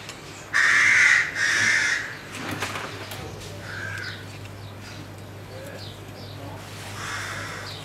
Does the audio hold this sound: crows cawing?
yes